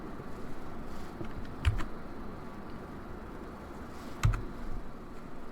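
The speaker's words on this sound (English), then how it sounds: "pick it and then hit delete on the keyboard" Computer keyboard keys pressed while working in PCB design software, two sharp isolated clicks about two and a half seconds apart, faint against a quiet room hum.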